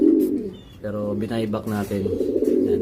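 Racing pigeons coo in a loft, a close repeated throaty burble in pulses, with someone talking over them.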